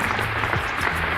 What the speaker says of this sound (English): The whole of the Union standing and applauding this magnificent speech of James